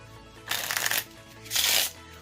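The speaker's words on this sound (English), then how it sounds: "hand the cards over to the spectator and have them shuffle them up all they want to." Two quick riffles of a deck of playing cards being shuffled, close up, with a short pause between them.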